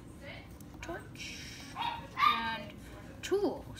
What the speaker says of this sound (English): Our dog's barking.